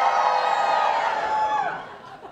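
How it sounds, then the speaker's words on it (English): A pantomime audience cheers loudly at first with shouts and whoops, then the crowd noise gradually tapers off. "Give us a cheer if you've done no work for your degrees this term."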